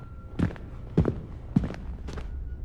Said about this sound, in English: followed by heavy footsteps.